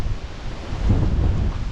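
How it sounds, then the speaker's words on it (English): Gusty wind buffets the microphone on a riverside walk near a rail viaduct, a brief low rumbling roar that swells and then eases, loud and close, with no voices. "It's a bit blustery."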